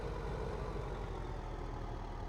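A red and black Case tractor idles steadily beside a McHale bale trailer in a field, its heavy low engine rumble close and constant with no talk over it.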